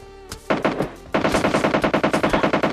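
PUBG Mobile gunfire: a lone shot, then a long, rapid, evenly spaced burst of automatic fire, loud and close, with no talking.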